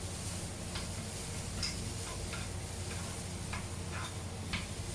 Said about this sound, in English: after frying some time, I think I better add in a little bit more water